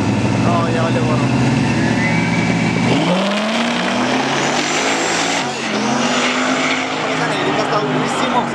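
Dragster cars race at an autodrome drag strip, their engines roaring loudly. One car sweeps past with a falling pitch, leaving a fading rumble, while people nearby talk over the noise.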